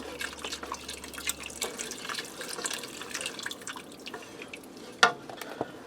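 Liquid sloshing and dripping as beef broth is poured into an Instant Pot on sauté high while the pot is stirred, faint and steady with a brief clink of a utensil near the end.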